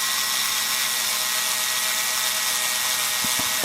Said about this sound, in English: drill out only